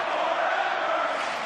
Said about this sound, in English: Man, do you hear that crowd?